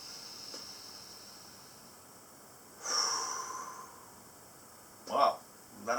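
Slow, deliberate breaths during a guided breathing exercise: a soft inhale around the midpoint, then two shorter, sharper breaths near the end, close and fairly quiet over a faint background hiss.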